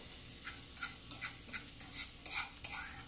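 Carrots stirred in avocado oil in a pan, a soft rhythmic scrape of utensil against pan repeating about ten times over a faint sizzle, close and quiet.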